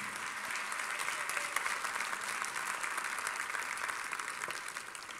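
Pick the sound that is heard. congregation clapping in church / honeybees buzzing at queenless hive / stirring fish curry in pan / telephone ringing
congregation clapping in church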